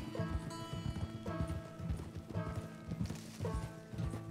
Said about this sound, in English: we just have like a nice casual horse ride in the beginning